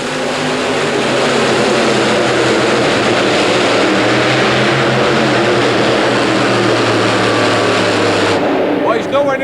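A modified tractor puller with a three-engine combination, the Texas Flash, roars at full power in an indoor arena, a loud sustained howling drone that cuts off sharply near the end.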